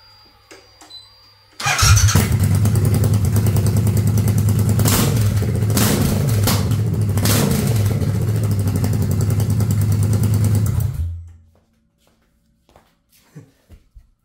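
A Triumph Bobber motorcycle fitted with exhaust cut-outs fires up with a sudden loud bark, then roars and revs steadily, close and raw, for about nine seconds before shutting off. A few faint clicks and clatters follow in the quiet.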